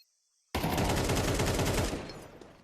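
Gunfire in a competitive shooter video game, a loud rapid burst of automatic shots that erupts after a near-silent moment, rattles steadily for over a second and then tapers off.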